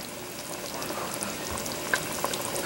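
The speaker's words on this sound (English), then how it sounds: "I'm going to crank up the heat a little bit to about medium-high for it to boil a little bit." Noodles and broth for Chinese brothy noodles with bok choy boil on medium-high heat. A steady, close bubbling hiss carries a few faint pops and plays on its own throughout.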